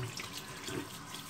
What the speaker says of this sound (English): Okay, rinse the razor.